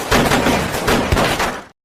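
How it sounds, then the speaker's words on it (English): A sudden, brief exchange of gunfire in a heist-film scene: dense, loud bursts of shots and impacts crowd together for under two seconds, then cut abruptly to silence. "leading to an exchange of gunfire."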